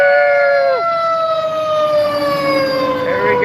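A fire engine siren wails loudly and close, its tone sliding downward as it passes, over steady traffic rumble with no voices.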